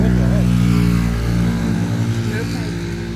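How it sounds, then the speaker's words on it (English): Mopeds pass by outdoors during fig tree pruning in a garden, a loud steady engine drone with a lower revving hum that fades slightly over a few seconds, heard under someone talking. "what the heck? Mopeds."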